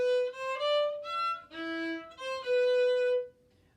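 A cello plays a Zelda melody at full speed, a sustained bowed line of connected notes with a few pitch shifts, heard alone and close.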